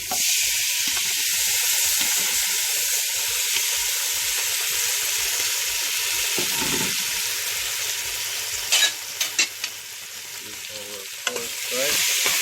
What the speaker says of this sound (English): I'm going to saute it for a little bit.